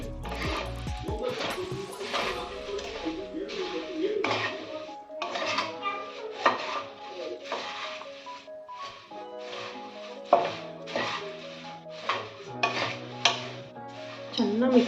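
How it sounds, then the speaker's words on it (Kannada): A spoon stirs and mixes food in a cooking pot while preparing a vegetable dish in a home kitchen, giving repeated scraping and clinking strokes over steady background music. "ಚೆನ್ನಾಗಿ ಮಿಕ್ಸ್ ಮಾಡ್ಕೋಬೇಕು"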